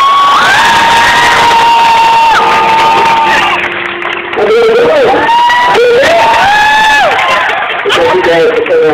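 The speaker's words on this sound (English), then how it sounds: "Councilman stand up, give a big round of applause to Mr. Mark Ballas." A crowd at a fair's outdoor stage cheers and whoops loudly, with shouts rising and falling over continuous applause-like noise.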